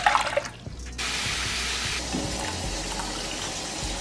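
Water pours steadily into a cooking pot being filled to boil tapioca pearls, a close continuous rushing splash after a brief clatter at the start.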